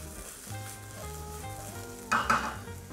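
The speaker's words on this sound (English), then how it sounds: "Give it a stir." Orzo and onions are stirred in oil in a pan, with a soft sizzle throughout and a louder clattering scrape of the spoon near the end, close by and without speech.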